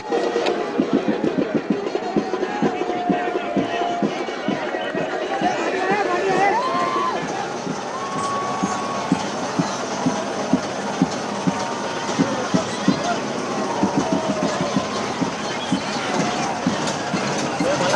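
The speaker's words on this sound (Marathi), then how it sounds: "गणेश भक्तांची तुफान गर्दी" A huge crowd of Ganesh devotees on the seashore at the Lalbaugcha Raja immersion, forming a loud, continuous wash of many voices with steady rhythmic pulses running through the whole stretch.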